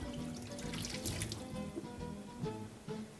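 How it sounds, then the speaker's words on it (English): Running tap water splashing over hands in a sink while rinsing them during pastry preparation, a steady continuous rush with small splashes, close and moderately loud, with no talking. "just quickly rinse my hands"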